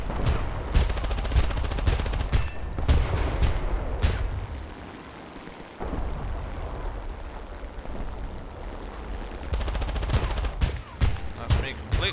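Aircraft guns firing in War Thunder from a Ki-27 Otsu fighter amid flak, heard as repeated bursts of rattling gunfire over a droning engine, with a quieter stretch in the middle before firing resumes.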